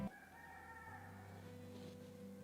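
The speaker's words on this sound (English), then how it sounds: "if you hear that, know that the chickens are waking up" A rooster crows faintly in the distance at dawn, its drawn-out call rising over a quiet, humming background.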